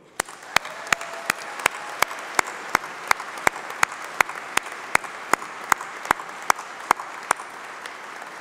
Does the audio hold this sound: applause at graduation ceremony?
yes